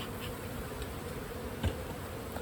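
Honey bees fly around a backyard beehive, a dense continuous buzzing hum near the microphone with one brief soft bump partway through and no voices.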